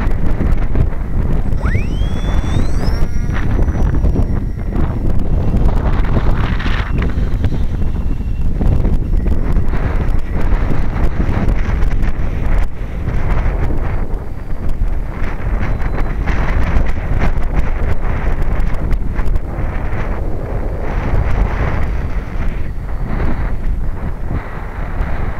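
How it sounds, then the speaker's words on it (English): Strong wind roars continuously into the microphone throughout, outdoors while flying a Lite Stryker model plane in heavy winds, with a brief high whine near the start. "Oh, so windy."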